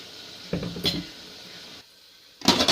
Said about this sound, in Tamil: இப்போ வடித்து வச்ச சாதத்தை போட்டு நல்லா கிளறி விட்டுக்கலாம்.